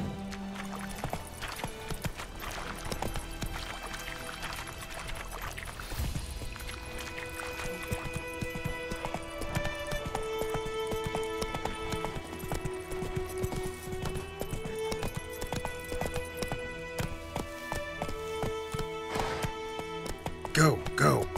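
Roach the horse in The Witcher 3 galloping, heard as rapid rhythmic clip-clop of hooves with a brief whinny, set under a game music score and occasional voices.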